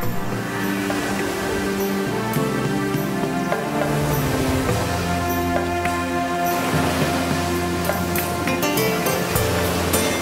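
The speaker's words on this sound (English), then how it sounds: "A unique coastal landscape with plates, stone steps and unusual rock formations, constantly beaten by the waves." Steady, continuous surf washes against a rocky Taiwanese coastline of stone plates, steps and unusual rock formations. The broad rushing roar stays constant throughout, partly under a tonal music bed.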